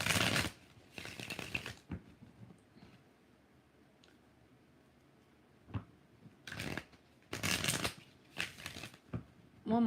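Tarot cards are shuffled by hand in several loud, crisp riffling bursts, close up, separated by quiet pauses and light handling taps.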